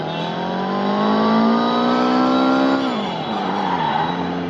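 Car engine revving hard at full speed in the video game Car Simulator 2, a loud, steady, rising whine that drops sharply with a gear change and then climbs again.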